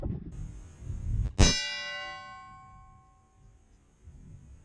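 A 30-30 rifle round strikes a Minuteman steel armor plate with one sharp, loud metallic clang that rings on and slowly fades over a few seconds.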